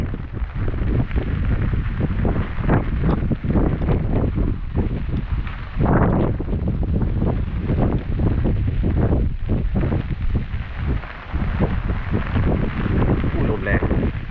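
Strong gusty wind from Storm Noru, with low-pressure rain squalls, roars loudly and steadily across the microphone, with broadband rumble surging and easing throughout, much like blustery wind and rain outdoors.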